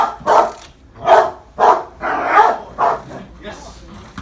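A police dog barks during training while in play drive: about six loud, close barks in an uneven rhythm, with short pauses between them.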